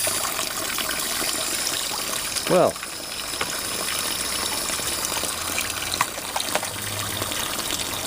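Water from a supply hose runs into a barrel, giving a continuous gushing wash close by; someone speaks briefly as it flows.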